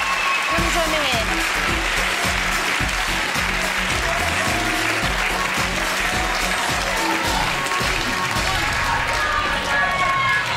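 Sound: audience applause for Sarah and Javine

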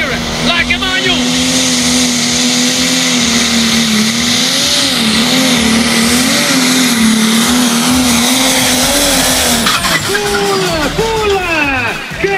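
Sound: pro stock race car turbo engine screaming

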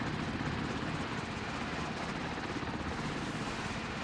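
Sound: helicopter launching in Warship Mobile 2 naval video game

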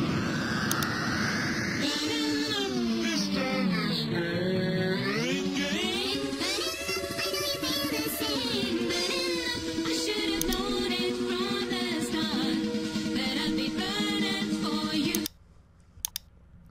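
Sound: music pitch-shifted in Virtual DJ without Master Tempo

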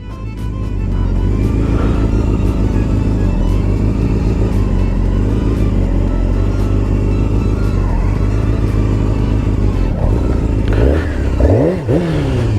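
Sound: sport motorcycle engine revving

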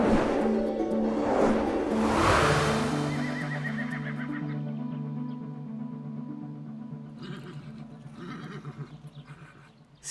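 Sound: horses neighing at the stables

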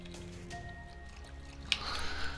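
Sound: filling a container with salt water in video game Raft

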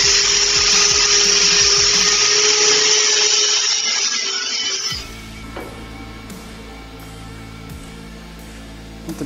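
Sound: grinder grinding down stainless steel tube weld

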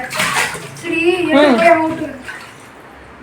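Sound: water being scooped and poured in a bathroom

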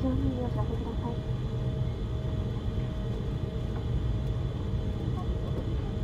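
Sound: Airbus A321neo cabin noise in flight

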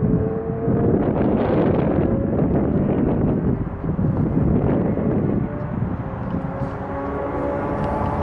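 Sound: strong crosswind on a football field

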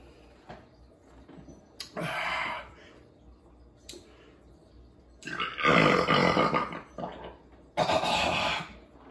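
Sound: burp after drinking IPA beer

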